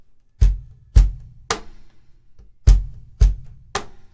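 Cajon played alone in a classic worship groove, bass, bass, snare, repeating: six sharp, close hits at an even pulse, the booming low bass strokes alternating with a brighter, slappier snare stroke.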